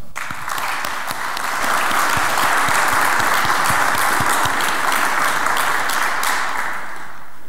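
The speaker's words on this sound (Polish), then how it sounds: "Brawa dla państwa." An audience applauds at a National Education Day ceremony in Poland, a steady loud wash of many hands clapping that swells after the first second and holds evenly to the end.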